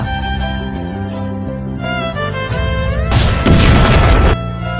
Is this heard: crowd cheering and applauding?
no